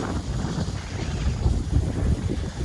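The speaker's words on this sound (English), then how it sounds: "It's very windy right now." Strong wind roars and buffets the microphone in a steady, rumbling blast at a ferry landing in Davis, North Carolina, with no other sounds standing out.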